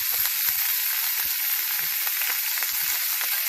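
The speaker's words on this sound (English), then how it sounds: "I'm going to add my 2 tablespoons of butter. I'm going to add my garlic and onion to that." Butter, garlic and onion sizzle steadily in a hot pan, a dense, even frying hiss with small crackles and a few soft clinks, close and alone without talk.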